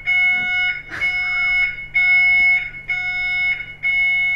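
A loud, piercing smoke alarm beeps in repeated pulses, close and insistent, with a brief voice in the background, set off during a chromium trioxide chemistry demonstration.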